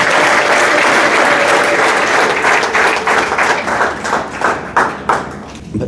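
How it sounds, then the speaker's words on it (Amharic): A church congregation at a prophetic service breaks into loud, dense applause that holds steady, then thins into scattered individual claps as it fades. "ለእግዚአብሔር ክብር አጨብጭቡ።"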